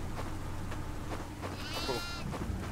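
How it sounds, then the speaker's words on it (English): A goat bleats in the horror video game Devour, one clear wavering bleat rising over a steady low game drone and scattered clicks, fairly near. "Oh, look, another goat."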